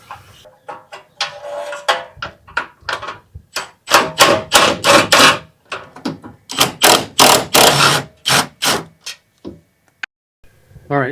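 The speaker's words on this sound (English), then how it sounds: "got my deep socket here, and we're going to go in and remove this bolt right here" A deep-socket ratchet backs out a bolt on a Subaru during a Cusco rear power brace install. Loud, close bursts of rapid rhythmic clicking come with short pauses between strokes.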